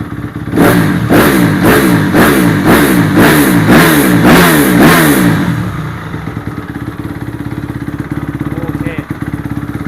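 A low-hours Honda CRF250R dirt bike engine revs hard in about eight rapid, loud pulses, then drops to a steady rumbling idle, with a voice speaking over it.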